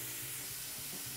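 Onion frying in a skillet gives a steady, even sizzle and hiss close by, with no talking over it.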